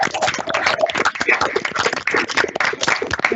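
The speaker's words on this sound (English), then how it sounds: "I suggest that we all turn on our microphone and applaud Maarten." Online meeting participants clap over their open microphones at a virtual psychology symposium, a dense patter of uneven, overlapping claps from several home setups, fairly loud and continuous throughout.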